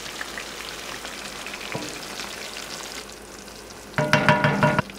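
Fish cooking gently in a cilantro and lime spice mix gives a continuous soft sizzle that thins out briefly, then a louder burst of crackling and stirring near the end.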